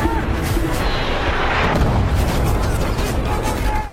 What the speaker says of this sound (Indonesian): tiba-tiba aja terdengar suara dentuman keras yang menandakan kalau mereka saat ini sedang diserang oleh musuh